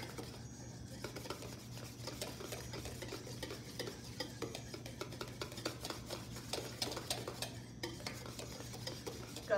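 Steady scraping and clinking of a utensil stirring Eggs Benedict sauce with lemon juice in a pan, close and continuous under a low hum, with no talking.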